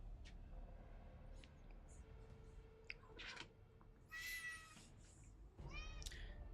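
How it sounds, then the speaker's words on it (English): Pet cat giving several high, drawn-out meows, the two loudest near the end, over a quiet room hum with faint scattered clicks and small sounds. "What's up, kitty?"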